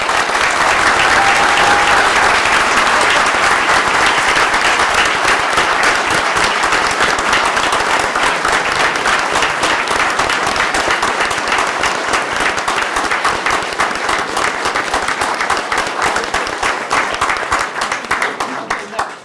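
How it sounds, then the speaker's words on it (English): A Board of Education meeting room audience applauds loudly and steadily for nearly twenty seconds in a sustained round of clapping for a group standing at the front, with crowd murmur mixed in. "can we give them all a great round of applause?"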